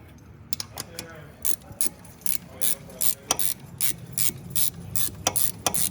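A ratchet wrench turns a 12 mm socket on a caliper bolt of a 1998 Jeep Grand Cherokee 5.9 Limited: a steady run of sharp, close clicks in quick, regular bursts, fairly quiet.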